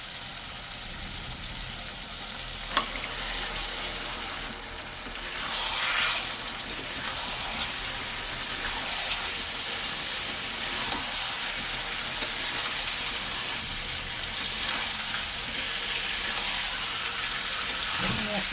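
Chicken pieces sizzle in oil and spiced masala for a Bengali-style chicken curry, with steady frying hiss, occasional scraping stirs and a sharp clink of a utensil against the pan.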